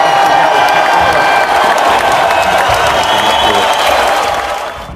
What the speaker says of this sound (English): Let's give him a big Newton round of applause.